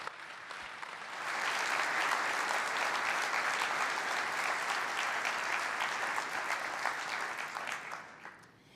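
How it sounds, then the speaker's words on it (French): An audience at a manufacturing innovation forum breaks into applause for entrepreneurs, swelling after a second into steady, dense clapping that holds for several seconds before tapering off. "j'aimerais vraiment vous remercier et vous donner une grosse main d'applaudissement pour tout le travail que vous avez fait"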